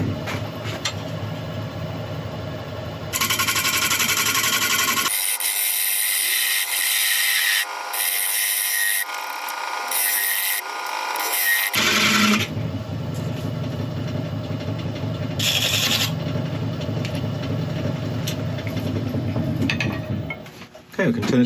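A wood lathe hums steadily as a tool cuts a tenon on a grass tree root, with harsh scraping and hissing that shift through the stretch and pause briefly, and a person talks partway through.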